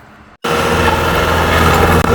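A tractor engine runs with a Zamindar Agro disc harrow attached and under no load, kicking in abruptly after a near-silent moment and then holding a loud, steady, close diesel drone with a rumbling vibration.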